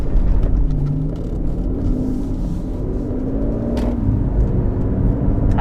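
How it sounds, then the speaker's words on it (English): Aston Martin DB11 V8, a 600-horsepower rear-wheel-drive car, pulls away hard with a steady, loud engine rumble and whir as the rear wheels briefly spin, heard from inside the cabin. "Had a bit of wheel spin there, I'm not used to it."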